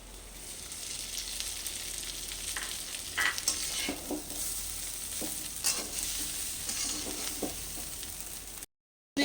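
Rice frying in ghee for a prawn pulao, a quiet continuous sizzle with intermittent stirring scrapes and clinks against the pan, ending in a brief cut to silence.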